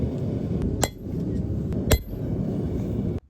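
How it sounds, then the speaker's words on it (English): A hammer strikes a steel maker's mark stamp onto freshly forged chisels, giving two sharp metallic blows about a second apart over a steady background hum that cuts off at the end. "I've got to stamp my maker's mark on these."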